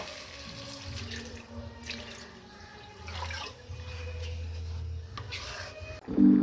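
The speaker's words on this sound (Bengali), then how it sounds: "এবার আমি জল দিয়ে দেব।" Water runs into a cooking pan for dhaba-style egg tarka, a steady pouring stream heard close up with a gurgling swell midway and no talk over it.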